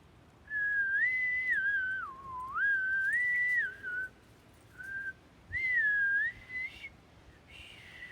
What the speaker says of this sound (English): I really can't whistle.